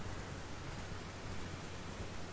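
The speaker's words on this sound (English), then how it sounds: "I feel like any rain in a land such as this should be poison rain" Steady, soft hiss of rainfall in the video game Elden Ring, in the Caelid region, even and continuous with no other sounds over it.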